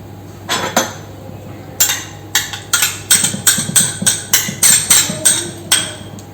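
A spoon or whisk clinks against a bowl while tuna loaf batter is stirred with olive oil and crème fraîche, giving a quick run of sharp metallic taps, a few at first, then a steady rhythmic series close by.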